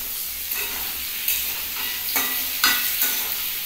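Gram flour and cornflour being stirred in hot oil in a pan for chicken rezala, a continuous loud sizzle broken by several scraping stirs of a spoon.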